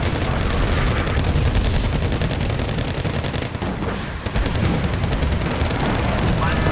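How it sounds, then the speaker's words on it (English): Tank weapons fire in the Wargame: Red Dragon strategy game as a barrage of loud, rapid gunshots and machine-gun bursts. The firing is nearly continuous, with a brief lull midway before it resumes. "Wow, they were within range to finally fire their weapons."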